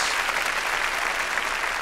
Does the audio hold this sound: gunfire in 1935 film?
no